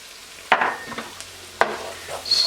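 Paprika being stirred into softened garlic in a hot pan, with two distinct scraping strokes over a steady low sizzle, close and fairly quiet, with no talking.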